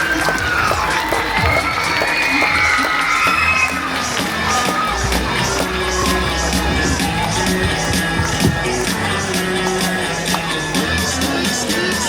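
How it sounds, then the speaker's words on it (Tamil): A big audience at a dance company's mega dance night claps and cheers loudly and continuously, with children shouting and whoops mixed in across the whole stretch. "சோ மக்களே இன்னும் சத்தமா ஒரு கைத்தட்டல் கொடுக்கலாம்."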